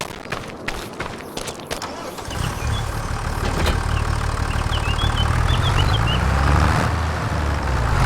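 On a farm in Alma, Missouri, a tractor engine is started: a few clicks and clunks from inside the cab are followed by the engine catching and running at a loud, steady diesel idle, with a brief high beeping over it.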